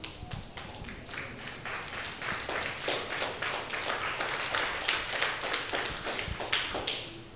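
Church congregation clapping after a sermon, a dense patter of many hands fairly close, steady throughout without voices.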